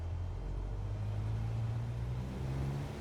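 A small aircraft engine held at full throttle for takeoff in Microsoft Flight Simulator 2024 drones steadily with a deep, rising hum, continuous and close throughout.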